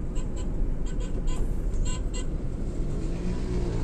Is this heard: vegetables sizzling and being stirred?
no